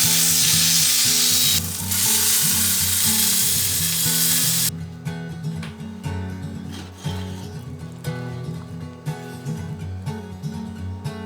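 A steak searing in a hot pan, turned to render its fat side, gives a loud, steady sizzle that drops in level partway through and then continues with crackly bursts.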